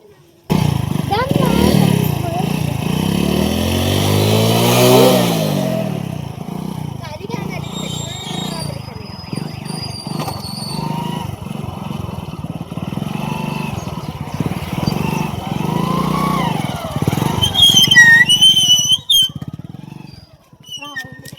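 Several motorcycles ride together on a road toward a temple, engines droning loudly and close with a passing rev early on, while people talk over the engine noise throughout.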